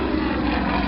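A Yak 52 two-seat aerobatic trainer plane flies with a steady droning propeller-engine roar, loud and continuous for a brief moment.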